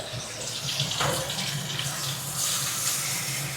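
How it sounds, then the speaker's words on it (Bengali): Water is poured into a milky vegetable curry as it cooks, a steady close splashing gush that runs unbroken for a few seconds. "ঝোলের পরিমাণ মতো জল দিলাম"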